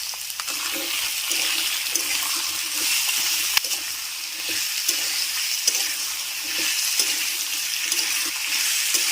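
Potatoes for aloo posto sauté and sizzle in a hot pan with a little salt, a steady frying hiss broken by scraping stirs of a spatula, close and continuous with no talk.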